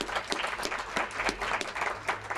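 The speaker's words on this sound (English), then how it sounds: "let's give our librarians and John a great round of applause" A modest library gathering applauds its librarians, a fairly small group clapping with distinct, uneven hand claps over a low background hum, moderately close and continuous.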